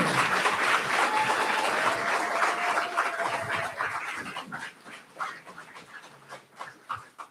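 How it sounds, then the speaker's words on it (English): Audience applause for governor candidates at a state GOP party forum in Oklahoma, a loud sustained round of clapping that thins out and fades into scattered claps and room noise toward the end. "round of applause for these candidates with all those questions"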